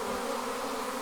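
Honey bees buzz around a swarm cluster, a close, steady droning hum with many wings overlapping, constant and unbroken throughout.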